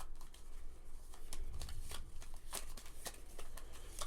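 Cards being shuffled during a tabletop game of Pandemic Legacy Season 2, a quiet, continuous riffle of rapid papery flutters and snaps lasting several seconds.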